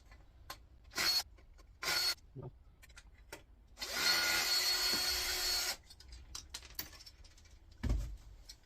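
Power drill backing screws out of a scrapped multifry electric cooker: short whirring bursts followed by a longer sustained whine, with clicks, clatter and handling noises between, close and fairly faint.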